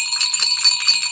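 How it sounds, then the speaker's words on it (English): A decorative door-hanger jingle bell shaken steadily, giving a bright, continuous metallic tinkle of many small bells, close and alone with no talk. "move on to this beautiful kind of door hanger jingle bell,"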